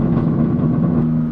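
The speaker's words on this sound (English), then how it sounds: "He's got those burbles on aggressive mode." BMW M4 CS with a Remus exhaust in aggressive mode, a loud, close, low engine drone with a rough burbling texture that holds steady for the whole moment, no voices.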